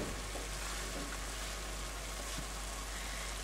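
Chopped onion hits browning meat in a pan and fries with a continuous crackling sizzle, soft and even, with small stirring scrapes underneath.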